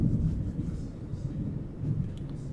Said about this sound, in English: It's starting to thunder.